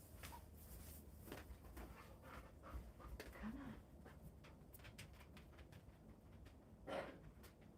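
A pet dog panting indoors, a steady close breathy rhythm running through the whole stretch with a brief whimper-like squeak near the end, with a faint low room murmur beneath.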